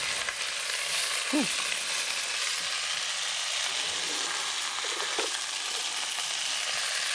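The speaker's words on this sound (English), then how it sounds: "Sizzle. Excellent. That's what you want. A nice sizzle." Beef sizzles steadily in a hot pan with a bright, crackling hiss, broken by a few light utensil scrapes from tongs.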